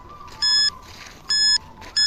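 A ghost tracker device gives off repeated loud electronic beeps in short bursts about a second apart, each a steady bright tone, with quiet gaps between them.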